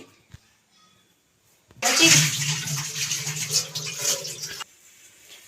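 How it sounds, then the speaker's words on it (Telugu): A kitchen mixer grinder whirs loudly for about three seconds, grinding onions, green chillies, tomato, garlic, ginger, coriander and tamarind, then cuts off abruptly, with quiet handling noises before it starts. "ఇప్పుడు ఈ మిక్సీ పడతానండి"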